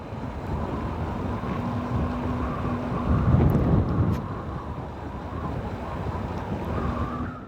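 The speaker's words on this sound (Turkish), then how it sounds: "365 gün rüzgar vardır burada" Steady wind rushes and buffets the microphone outdoors at the Beştepeler picnic area in a city forest near Erciyes, Turkey, a continuous low roar that swells briefly midway, with no voices.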